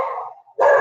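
A dog named Sir barks twice at close range, a drawn-out bark fading into a brief pause before a second loud, sharp bark.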